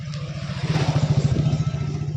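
A vehicle approaches on a road near Mahabaleshwar, its engine running with a steady, pulsing low throb that swells and grows louder through the middle.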